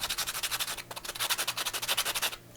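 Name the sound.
sanding miriti wood with coarse 80-grit sandpaper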